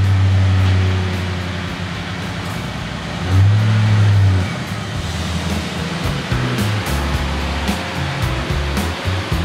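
An American convertible's engine, fitted with an aftermarket cold air intake, starts and settles into a steady, loud running rumble, with a brief swell in revs early on.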